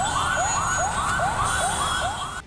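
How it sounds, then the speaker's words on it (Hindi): A fire engine's siren wails in a fast, repeating rising sweep as the truck arrives at a burning car on a road, loud and steady throughout, cutting off abruptly at the end. "इस हादसे की जानकारी मिलते ही दमकल की एक गाड़ी वहां पहुंच गई"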